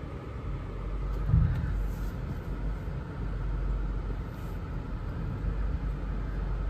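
A Lexus LS430, freshly back from transmission repair and a little rusty from sitting, rolls along at low speed with a steady low engine and road rumble throughout and a brief thump near the start.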